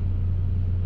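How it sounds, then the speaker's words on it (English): A truck and a car pass along a road by an S-curve, heard as a steady low rumble close by with no clear rise or fade, and no one speaking. "I'm waiting for this truck and car to pass."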